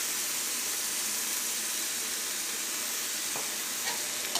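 Chicken frying with sautéed onions in a pan, a steady dense sizzle holding level throughout, close and loud, with a few faint stirring scrapes near the end.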